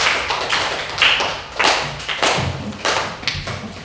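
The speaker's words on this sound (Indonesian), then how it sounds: "Tepuk tangan buat kelompok 1." A classroom audience gives brief applause for a student group, a short run of sharp, uneven claps and taps heard up close with no talking over them.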